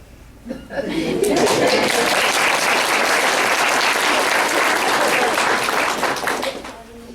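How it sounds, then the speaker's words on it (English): A stand-up comedy audience breaks into loud, sustained applause and clapping for a comedian at a mental health show, rising sharply after a brief lull and holding steady before tapering off, with scattered chuckles in the crowd. "Wait for everyone to finish applauding."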